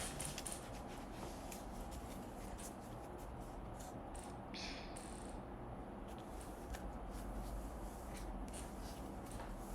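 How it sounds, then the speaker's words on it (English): Cat Tarot cards being shuffled by hand, a steady run of soft papery riffling and rubbing that continues close up for the full ten seconds without a break. "I'm going to go ahead and shuffle the Cat Tarot."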